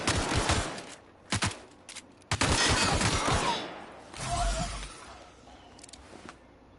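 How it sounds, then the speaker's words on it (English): Bursts of gunshots in The Outer Worlds video game, several sharp volleys separated by brief pauses, fairly loud, with a softer stretch and faint sounds near the end. "Oh, it's you shooting."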